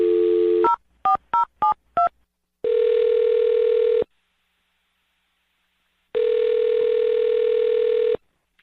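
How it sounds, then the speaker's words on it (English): Five quick touch-tone beeps as a phone number is keyed in, followed by two long ringback tones with silence between. "I'm going to dial this phone number right now"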